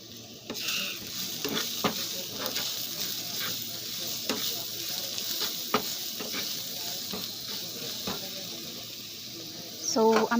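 Dried fish frying in a pan while being stirred, with a steady sizzle and repeated scraping strokes of a utensil throughout, plus a louder clatter near the end.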